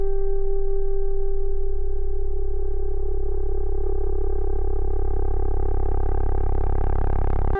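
Sine wave on an Elektron Syntakt pushed through the FX block with overdrive drive turned up: a steady, loud droning tone with strong low hum, its harmonics brightening and growing grittier as the distortion rises, with no pauses.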